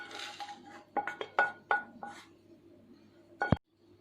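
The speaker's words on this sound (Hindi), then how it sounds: "सारे मसाले हल्के से रोस्ट हो गए हैं। अब हम इनको एक प्लेट में निकाल लेंगे।" Lightly roasted whole spices scraped out of a pan onto a plate, with a few sharp metallic clinks and knocks of a spoon against the pan, ending in one louder knock before falling quiet.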